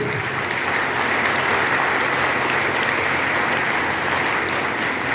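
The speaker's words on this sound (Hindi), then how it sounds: "अरे यार ताली बजा रहा हूँ इससे" A crowd claps continuously at a talk in Varanasi, a dense, uniform hiss of many hands held at a steady level throughout with no pauses, and only faint voice beneath.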